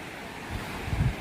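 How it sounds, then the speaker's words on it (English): Waves break over sand banks at a quiet beach with rushing white water, a continuous windy roar and a low surge swelling near the end, heard from a short distance. "Quite a lot of white water as the waves crash over the sand banks there."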